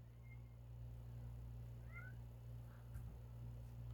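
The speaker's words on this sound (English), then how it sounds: "I hear kitty." A cat meows faintly a couple of times in the background of a quiet room during a card night, short thin calls over a steady low hum.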